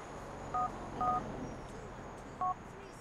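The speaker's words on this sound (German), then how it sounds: "Moment, eine SMS." A phone text message alert in Grand Theft Auto IV sounds as three short two-tone electronic beeps over a steady background hum of game ambience.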